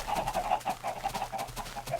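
Chickens on a small Minecraft chicken farm cluck in a steady run of short, repeated bursts, close and fairly quiet, with no talking over them.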